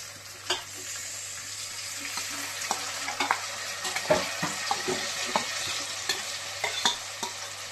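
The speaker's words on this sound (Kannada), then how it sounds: "ಈಗ ಆನಿಯನ್ನ ಈರುಳ್ಳಿ ಈಗ ಫ್ರೈ ಆಗೈತಿ ನೋಡ್ರಿ, ಮಸ್ತ್ ಆಗೈತಿ" Onions fry in a pan, a steady sizzle under repeated scraping stirs of a spatula, fairly close with no talking.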